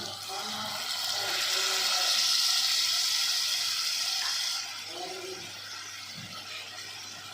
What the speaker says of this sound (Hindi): ये थोड़ा सा मैं पानी इसमें डालने लगी हूँ।